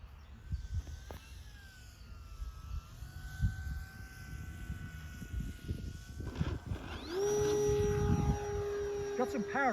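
Electric RC Cessna 182 model plane flying and making a touch and go, a faint whining motor hum that swells into a louder steady drone near the end, with people talking.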